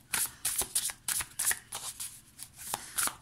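Cards for a card reading are shuffled close by in quick, crisp riffling bursts of flicks and pauses, alone with no talk.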